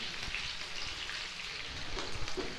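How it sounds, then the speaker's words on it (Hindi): Onions heating and frying in a pan for a potato and egg dish, giving a steady soft sizzle and crackle that runs evenly throughout with a few slightly louder pops near the end. "प्याज जो है इनको थोड़ा थोड़ा हमने गर्म कर लेना है और थोड़ा सा पका लेना है"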